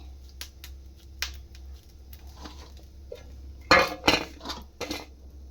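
A plate picked up and set down in a home kitchen while ridge gourd vadas are shaped, giving a few light clinks and taps against a quiet background hum.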